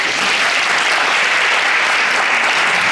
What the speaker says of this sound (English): A round of applause for Councillor.